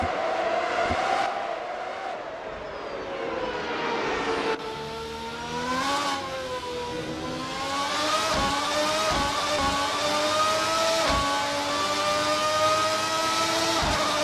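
A grid of 1990-era Formula 1 cars at Interlagos in Assetto Corsa revs and accelerates away from a race start, high-pitched engine whines climbing through gear changes, several cars layered and sustained for about fourteen seconds.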